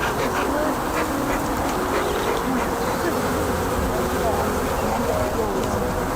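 Agitated honeybees at a hive make a dense, steady buzzing drone close by, with a few individual bees whining past and faint voices in the background.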